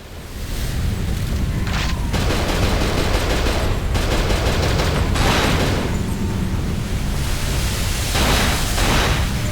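Sustained enemy gunfire in the Cold Fear game, a continuous loud rattle of shots with heavy rumbling booms throughout, no speech over it.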